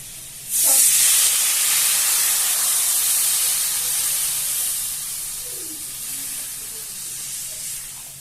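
A loud, sudden hiss and steam sizzle erupts as water is poured into a hot pan of turmeric and spices, then settles into a steady, slowly fading bubbling hiss that continues throughout.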